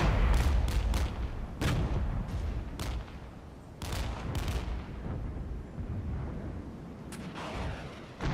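A rocket artillery barrage in the video game Regiments: a dense run of booming blasts and sharp cracks lands in quick succession over a constant rumbling battlefield roar, loud and close throughout.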